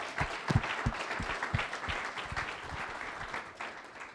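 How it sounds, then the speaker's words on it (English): A live audience at a startup panel event applauds the panelists in a steady round of clapping, with some louder individual claps near the start, lasting several seconds before fading slightly. "can I hear a good round of applause for the panelists?"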